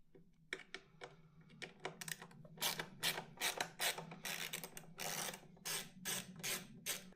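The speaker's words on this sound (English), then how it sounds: "Popping these bolts out here." Bolts being loosened and removed from the rear of a 2026 BMW S1000RR motorcycle, heard as a series of quick ratcheting clicks in irregular bursts, close and fairly quiet.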